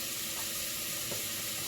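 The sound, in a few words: bacon fat rendering and sizzling in a pan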